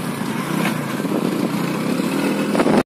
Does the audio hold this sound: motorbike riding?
yes